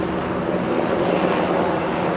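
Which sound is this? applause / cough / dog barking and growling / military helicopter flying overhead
military helicopter flying overhead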